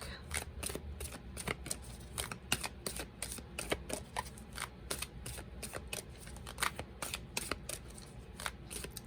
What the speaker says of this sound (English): let's pull a card for the overall energy of this upcoming week